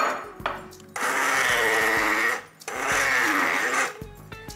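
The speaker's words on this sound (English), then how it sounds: "I'm gonna use a fancy hand blender now just to get this paste going." A hand blender purees a paste with cumin seeds, making two loud buzzing runs of about one and a half seconds each with a short pause between them, close up with no talk.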